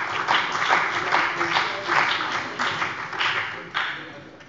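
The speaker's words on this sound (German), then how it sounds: "Applaus" Applause from members in a German state parliament plenary session, a steady wash of many hands clapping at moderate distance with rhythmic swells, continuing for several seconds with faint voices underneath.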